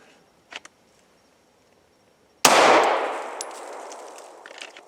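A single handgun shot fired strong-hand at a steel target, with two faint taps before it. The sharp, loud report rings out and decays over about two seconds, with a metallic ring from the steel.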